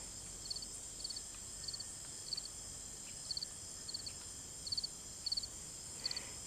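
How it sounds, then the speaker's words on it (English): Crickets chirp in short, evenly spaced bursts of three or four quick pulses, faint and steady over a soft hiss of night ambience, with no voices. "you start to hear little chirrup sounds of crickets"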